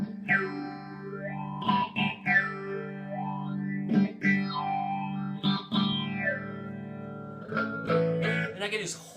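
An electric guitar runs through a Mu-Tron Bi-Phase effect pedal controlled by a foot pedal, with sustained notes and chords that sweep and swirl in pitch as the phase shifting rises and falls, played alone without talk.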